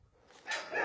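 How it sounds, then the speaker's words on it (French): Husky-cross dogs barking in a short, rising burst, a couple of sharp barks close by, loud and alone. "Ces chiens, c'est Karine qui les a récupérés"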